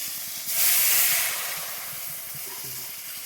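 Water poured into a hot pan of frying potol brings a sudden loud burst of hissing steam that slowly eases into a softer, steady sizzle, heard close with no voices.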